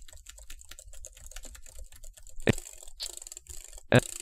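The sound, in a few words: fast typing on computer keyboard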